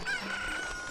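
A cucco, the chicken of a Zelda-style video game, gives a short, bright, clucking crow, clear and fairly loud for just under a second, with no talking over it.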